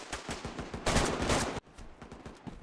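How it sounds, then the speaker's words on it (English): Rapid automatic gunfire in DayZ rattles in quick repeated bursts, one dense loud stretch in the middle between sharper, more spaced shots. "I'm trying to get closer, but they keep shooting me."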